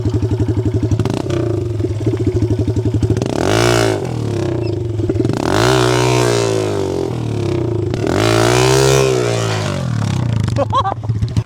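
A Yamaha MT-07 motorcycle engine revs hard during a drift session, rising and falling in repeated throttle bursts with a steady rumbling idle between them, loud and close throughout.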